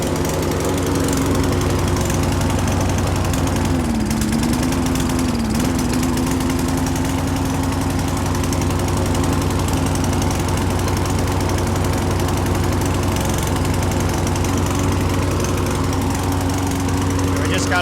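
A small lawn mower engine running low on fuel drones continuously nearby, a loud, steady rumbling idle with a slight wavering in pitch partway through, no pauses or speech.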